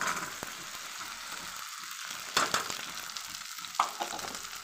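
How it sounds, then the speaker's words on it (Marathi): Okra and tomato stir-fried in a pan give a steady background sizzle, with a few sharp clinks and scrapes of a spatula against the pan. "एवढं याला मी असं परतून घेते"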